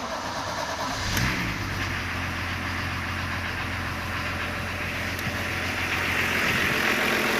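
A BMW 324 engine with a random stalling fault turns over and settles into a steady, low idle, close by, with no voices.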